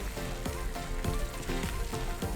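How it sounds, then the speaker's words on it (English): Eggs dropped into a sizzling pan of spicy chickpea shakshuka: a steady close hiss of frying with several soft, evenly spaced splats and pops as each egg lands. "and drop an egg in"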